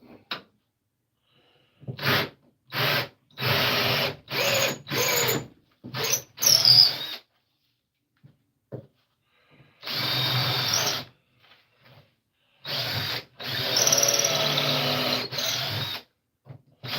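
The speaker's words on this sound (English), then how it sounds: "Okay. I drilled a hole." A power drill bores a hole in wood in about ten separate bursts, short whirring pulses at first, then longer sustained runs, close and loud with silent gaps between.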